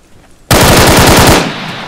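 A loud, sudden burst of rapid automatic gunfire in the video game Breaking Point, close and dense for about a second before cutting off.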